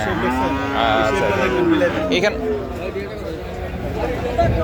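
Friesian bulls at the Chandimura cattle market in Comilla moo loudly and close by, drawn-out lowing calls overlapping against a faint background murmur of the market.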